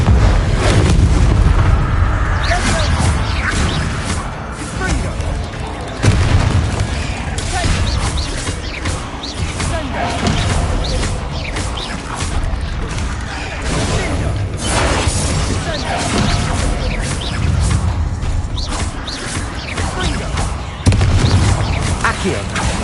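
Repeated spell blasts from Confringo in Hogwarts Legacy, a steady stream of booming bursts and crackling impacts packed densely across the stretch, loud and close, layered with game effects and a voice talking throughout.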